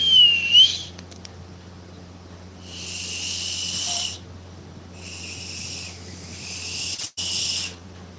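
A person whistles a short thin note, then several breathy, hissing bursts of attempted whistling follow with quiet gaps between them, alone and close.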